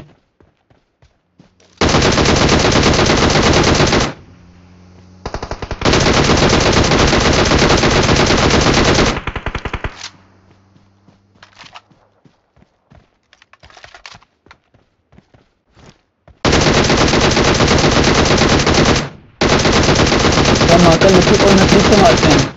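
Long bursts of rapid automatic gunfire in a video game battle, loud and close, with two pairs of sustained volleys separated by quiet gaps with faint clicks and soft talk.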